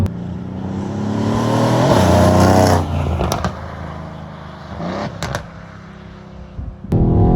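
A Mercedes-AMG C63 S coupe's turbocharged V8 revs and roars close by, rising and falling with gear changes, with a few sharp pops and a brief quieter stretch before it surges again.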